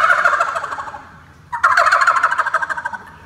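A turkey call imitates a turkey gobble: a rapid, rattling burst of gobbles, loud and close, repeated twice with a short pause between, no talk over it.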